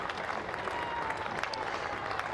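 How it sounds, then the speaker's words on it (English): Modest applause from spectators at a county championship cricket match between Warwickshire and Hampshire, a steady, fairly distant patter of clapping across the ground for the full stretch. "Gets some applause"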